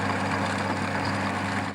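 A Massey Ferguson 2725 tractor engine idles steadily, a low, even diesel rumble with a firm fundamental and harmonics that holds constant for under two seconds before tailing off at the end.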